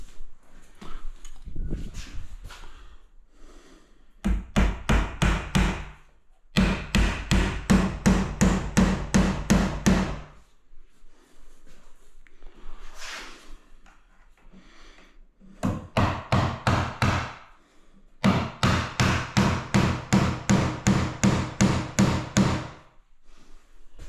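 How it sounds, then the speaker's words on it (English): A hammer drives nails into timber architrave trim: several bursts of rapid, evenly spaced loud blows, with pauses and quieter knocks between them. "Then you just zap a nail in there."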